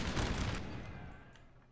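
Musket volleys from Napoleonic: Total War crackle in a dense burst of overlapping shots at the start, then trail off into a fading rumble of distant fire.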